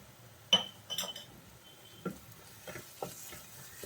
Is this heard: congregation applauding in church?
no